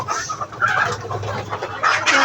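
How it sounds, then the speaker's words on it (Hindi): A flock of hens on a home farm clucks and murmurs close by in short, overlapping calls, with a few louder squawks near the end and no talking. "सारी मुर्गियाँ इधर उधर पाँव में आ रही है।"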